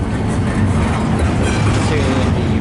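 A CPKC freight train rolls past close by, its DPU locomotive at the rear, giving a loud, steady broadband rumble and rail roar throughout.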